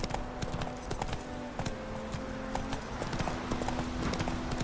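Roach, the horse in The Witcher 3, gallops with a quick, close clip-clop of hooves, sounding alone under faint game ambience.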